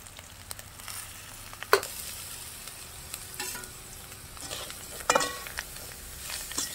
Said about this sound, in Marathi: मस्त असं हलवून घेऊया आणि 1 मिनिटभर झाकून ठेवूया